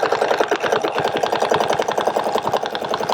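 A sewing machine runs steadily and close up, its rapid rhythmic needle stitching following a template line on a 3-inch cable quilting pattern, with no talking.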